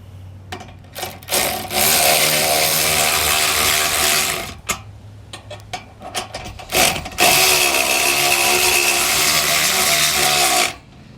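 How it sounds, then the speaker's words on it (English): Hand ratchet with a 13mm socket snugging the U-bolt nuts on a Brophy rigid-mount spare tire carrier, heard as loud, close bursts of rapid clicking broken by short pauses, with no talk. "I'm going to take a 13mm socket. I'm going to go ahead and snug up all of our nuts here."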